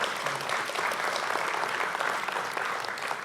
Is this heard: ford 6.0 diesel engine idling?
no